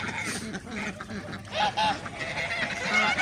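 Young ducks and geese honk and quack in a busy cluster nearby, calls overlapping at an uneven pace.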